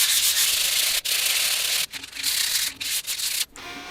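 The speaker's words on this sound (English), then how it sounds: "Let's just try some of this old sandpaper." Old sandpaper rubbed by hand over a 3D-printed blow gun part, a steady close rasping scrub in long strokes with a few brief pauses, loud and alone.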